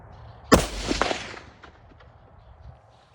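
A single sharp report from a Savage Axis rifle chambered in 22-250, fired outdoors, cracks loudly once, then decays with a brief rolling echo into quiet.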